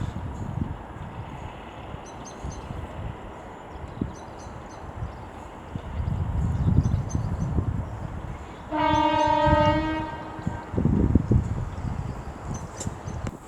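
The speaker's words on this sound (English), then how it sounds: "Okay, now approaching be 221113 for Avanti West Coast, working 1 Delta 89 from London Euston to Holyhead." An Avanti West Coast Class 221 diesel train approaching along the line, a rumbling, rising engine and wheel noise with a loud sustained two-tone horn blast in the middle, heard from the platform.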